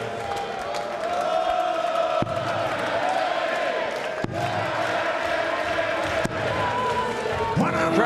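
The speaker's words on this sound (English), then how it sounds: "Crowd singing Gary Anderson's name" A darts crowd at the 2016 Champions League of Darts, Anderson versus Lewis, chants a player's name in a loud, sustained sing-song that fills the arena throughout.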